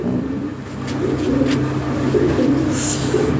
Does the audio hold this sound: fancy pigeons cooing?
yes